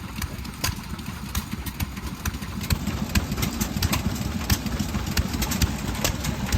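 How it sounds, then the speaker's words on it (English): Vintage hit-and-miss engines running at an outdoor harvest reunion show, with a dense, uneven chugging and popping rhythm, close and fairly loud, against a steady mechanical background. "this is one of the coolest areas to be hit and miss engines running"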